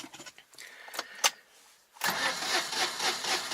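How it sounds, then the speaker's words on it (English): Cold Citroen Ami 8 that has sat unused, with the choke out, starts after a few clicks and brief cranking, then catches and runs with a busy, uneven idle, heard close up without talk. "It takes quite a bit of churning. Trying to convince this car that it really must get going."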